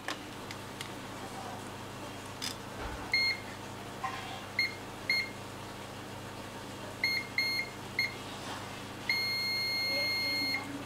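A multimeter in continuity buzzer mode beeps on a shorted capacitor in a mobile phone circuit, giving short, repeated electronic tones in irregular clusters and then one sustained beep, over a steady background hum.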